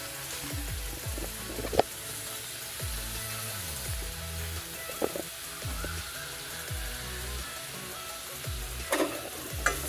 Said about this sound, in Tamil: இதே நெய்யில் துருவி வச்சுருக்கேன் கேரட் போட்டேன்.